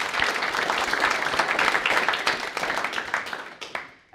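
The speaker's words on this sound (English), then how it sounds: "another round of applause." Applause from a software conference audience after a prize announcement, steady dense clapping at moderate level that tapers off near the end.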